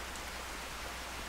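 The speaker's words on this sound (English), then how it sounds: "I guess it's just raining everywhere." Steady rain weather in the Skyrim video game, a continuous even hiss of falling water with no voices, constant and moderately loud throughout.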